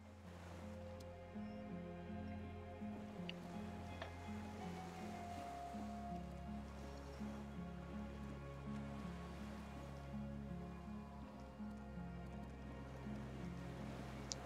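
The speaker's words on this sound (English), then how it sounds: "The skiff is swaying on the waves by the dock." Low, faint water laps against a swaying skiff at a dock in the game Disco Elysium, a soft continuous wash of surf over a steady low hum, with no voices.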